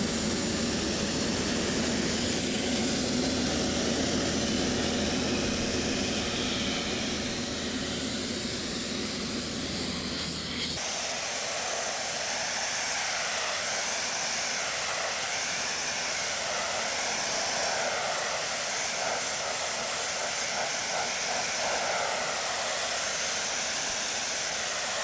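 Sandblasting a large storage box ahead of powder coating gives a steady, loud broadband hiss of blasting air and grit for the full stretch, shifting tone partway through as the nozzle moves.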